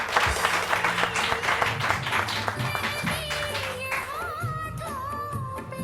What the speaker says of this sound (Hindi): तालियां तालियां जी